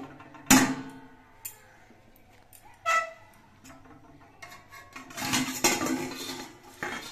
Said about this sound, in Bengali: এবার কড়াইয়ের ঢাকনাটা খুলে নিচ্ছি।